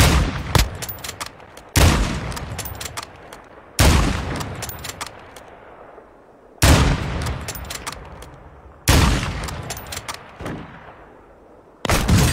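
Video game gunfire booms out in loud, sharp bursts about every two to three seconds, each crack trailing off in a long decaying echo, with no voices over it.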